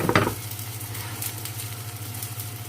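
A batbout in a frying pan gives off a soft, steady sizzle with a faint background hum, after a brief louder clatter at the start.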